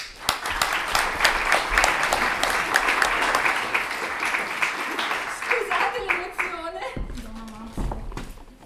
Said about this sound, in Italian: incoraggiamolo con un bel applauso